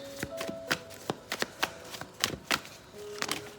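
A deck of cards being shuffled during a tarot-style card reading, a quick run of crisp riffling bursts and taps, close and fairly quiet, with a faint tone humming underneath and no talk.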